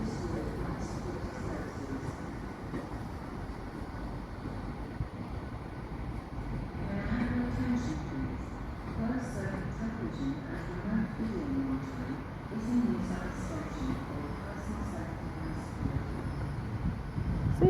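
A Class 802 train passes through Hereford station, a steady broad rumble that rises slightly midway and slows as it goes by, with faint voices in the background.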